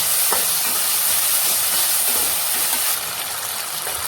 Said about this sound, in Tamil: இஞ்சி பூண்டு பேஸ்ட்டு நல்லா பச்சை ஸ்மெல் போகிற அளவுக்கு நல்லா வதக்கிடணும்.